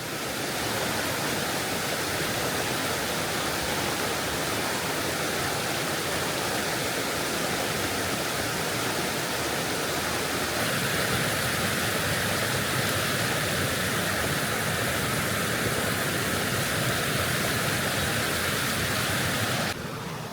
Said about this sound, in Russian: Здесь река становится особенно живой, сильное течение, шум воды